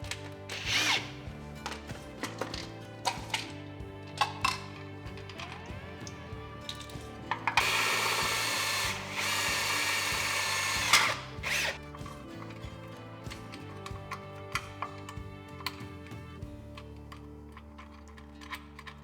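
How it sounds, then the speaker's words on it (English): A power drill fitted with a 7/8 inch hole saw cuts into a junction box during a well water harvester installation, one sustained grinding burst of about three seconds amid scattered clicks and handling noises, fairly faint. "use a 7/8 inch hole saw, drill in here"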